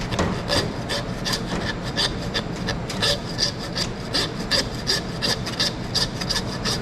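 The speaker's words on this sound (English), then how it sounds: "And a longer handsaw is handy." Handsaw cutting through ribs, a steady rhythmic rasping of back-and-forth strokes, close and fairly loud, with no talking.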